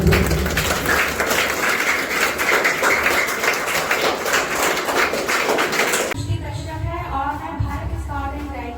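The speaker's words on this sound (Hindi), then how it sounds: "आपके लिए एक जोरदार तालियों से" Applause from an audience welcoming guests at a Bihar Day celebration gathering, sustained dense clapping for about six seconds, loud and close, before a voice begins speaking.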